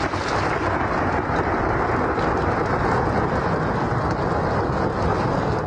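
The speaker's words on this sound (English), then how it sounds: "Rain and thunder rumbled." Steady heavy rain pours at Yosemite National Park, a dense continuous wash of sound with thunder rumbling low beneath it, no voices.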